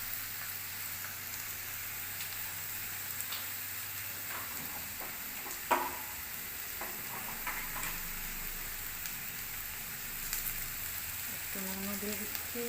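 A chopped ingredient fries in hot oil alongside rohu fish, giving a steady, moderate sizzle with scattered ticks and stirring clicks and a brief faint voice near the end.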